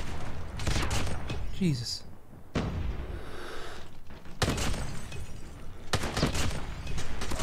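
Close, loud shotgun blasts from a weapon fitted with a Striker attachment in a first-person shooter video game, several sharp bursts separated by short pauses, with a voice exclaiming among them.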